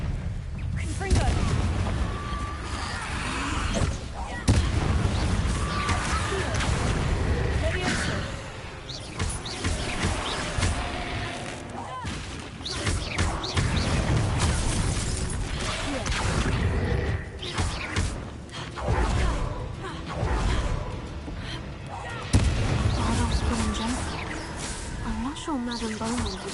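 Booming fiery spell blasts from a Hogwarts Legacy fight, played on PS5, burst repeatedly through dense game music and effects, with a voice shouting the incantation over the explosions.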